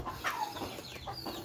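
A rooster clucks repeatedly in short, close, moderately loud bursts while someone tries to catch it, with farmyard background noise throughout.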